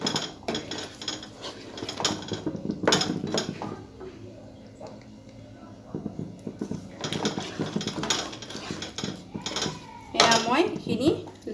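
A spoon stirs creamy shahi paneer gravy in a pan, giving repeated metallic scrapes and knocks in irregular bursts, close, with a little soft sizzle between strokes.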